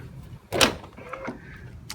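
A 2006 Volkswagen Touareg AWD tailgate soft-closes itself with a single muffled thud followed by a short motorized whir as it pulls shut, close and fairly quiet.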